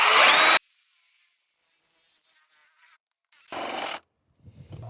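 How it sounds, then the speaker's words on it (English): A power drill fitted with a paddle bit whines loudly in a short burst, goes quiet, then spins up again for a second burst, with faint handling noise in between. "I'm going to try and use this paddle bit to see if that will go through."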